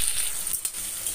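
Tomatoes hitting frying onions in a pan, a loud close hiss of sizzling with a brief burst and crackle partway through, continuing steadily after.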